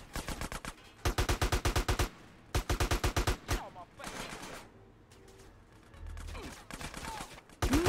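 Automatic gunfire in GTA San Andreas Definitive Edition, with several loud rapid bursts of shots in quick succession, followed by quieter game ambience and softer sounds.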